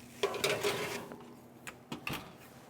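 Pans of potatoes slid into an oven at 350 degrees, soft metallic clinks and scrapes of pans and racks in a few short bursts, fairly faint and close, without talk.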